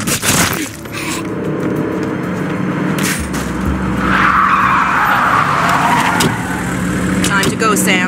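Tires skid and squeal as a car brakes to a stop in Splinter Cell: Conviction, a loud screech rising mid-clip over engine rumble and game background noise, with voices talking.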